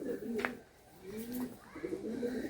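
Andhra pigeons at a pigeon sale, cooing in low soft murmurs with a couple of louder rolling coos, close by and without speech.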